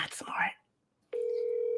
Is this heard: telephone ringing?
yes